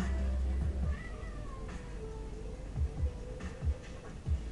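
A tiger-striped cat meows several times close by, short low cries repeating irregularly over steady background noise.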